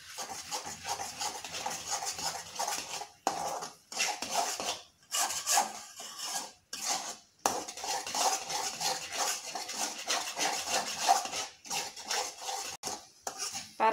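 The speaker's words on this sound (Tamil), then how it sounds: "எல்லா பக்கமும் வதங்குற மாதிரி பேரிச்சம்பழத்தை நல்லா வதக்கி விடணும்" Dates are sautéed in a pan for halwa, a spoon scraping and stirring against the metal in repeated rasping strokes with brief pauses, close and moderately quiet.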